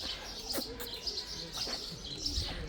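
Several birds chirp and call in short repeated bursts at a moderate distance in a zoo aviary in Moldova, over a low steady background hum.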